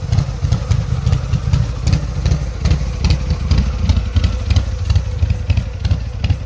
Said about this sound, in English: if you got a cam in it, it just rumbles real nicely